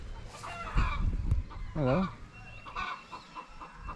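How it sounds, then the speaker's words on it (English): Chickens clucking and squawking at a Fijian family's village house, a cluster of close calls mid-clip, with a dog nearby and a person speaking briefly over outdoor background noise. "Chickens are going off."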